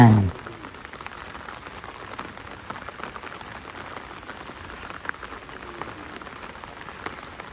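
Heavy rain pours steadily through the night, a dense, even hiss of drops on surfaces that holds without break from start to finish.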